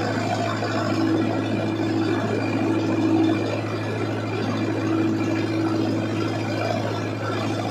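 A Farmtrac 6055 tractor pulling a Gurbaz 8-foot super seeder runs at a steady, loud drone with a constant low hum and a whirring mechanical texture, holding even RPM throughout with no voices.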